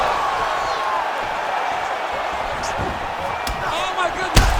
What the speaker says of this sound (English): a huge response from the crowd.